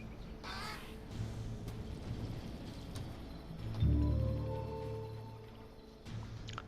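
Crows cawing in the fantasy strategy game Age of Wonders 3, a few calls scattered among game ambience, with a louder caw burst midway that tails off.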